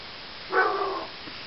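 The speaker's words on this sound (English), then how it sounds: "Dog's barking." A single dog barks once, a short moderately loud bark from indoors or nearby, followed by quiet.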